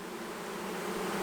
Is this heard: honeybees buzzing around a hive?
yes